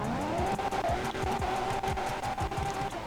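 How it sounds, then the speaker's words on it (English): Ferrari 812 Superfast fitted with a custom engine sound in GTA 5, a loud, continuous engine note with rapid revving and shifting pitch, tire-squeal-like bursts and no talking throughout. "So then let's go ahead and spawn in that 812 Superfast now."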